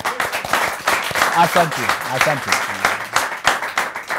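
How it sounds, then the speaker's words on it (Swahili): Audience applause for the musician Bahati on a talk show, a spattering of clapping that rises and dips while a voice speaks over it. "Wapi makofi ya Bahati?"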